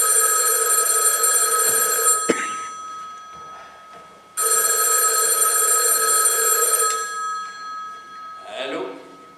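Old-style telephone bell ringing in two loud, sustained bursts separated by a short pause, with a clunk and faint stage voices between rings.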